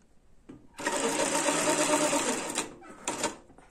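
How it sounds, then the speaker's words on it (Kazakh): A Janome sewing machine stitches around a fabric bag in a short close burst of fast whirring that stops and then gives a brief second spurt. "Айналасын бір тігіп өтеміз."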